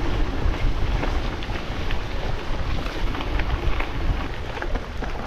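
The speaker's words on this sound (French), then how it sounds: "Le vent est monté là." Steady wind roars across the microphone during a gravel bike ride through an adventure course, a continuous loud rumbling buffet with no pauses.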